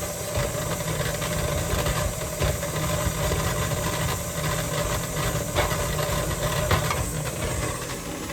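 An electric mixer creaming butter for Lucky Charms mini cupcakes, a steady mid-pitched motor whir with a hissy edge running continuously, and a few faint knocks of the beater against the bowl.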